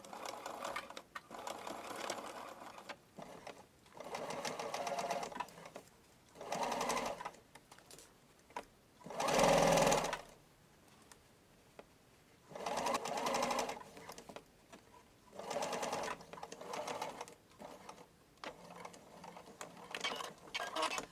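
A sewing machine topstitches around the outer edge of a small fabric pouch, its motor whirring in several separate bursts of rapid stitching with quiet pauses between runs.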